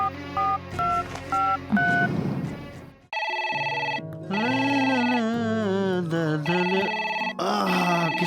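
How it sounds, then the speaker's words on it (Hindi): A phone rings in a Hindi feature film with a loud, melodic electronic ringtone. Beeping keypad-like notes lead into a sustained tune with a short gap midway, and no talk is heard. "किसका फोन आ गया?"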